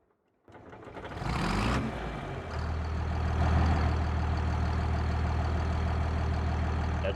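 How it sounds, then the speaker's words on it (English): A heavy tractor engine in the video game Farming Simulator 25 cranks briefly then catches and settles into a steady, loud low idle that keeps rumbling to the end. "let's hear this bad boy start up"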